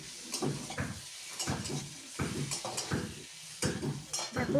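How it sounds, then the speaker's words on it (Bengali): Potato and eggplant pieces being stir-fried in a pan with chili powder, onion and tomato: intermittent scraping strokes of a spatula with soft sizzling underneath, moderately quiet and rhythmic, without voices. "এরপর এগুলোর সাথে আলু বেগুনকে আরও কিছুটা কষিয়ে নেব।"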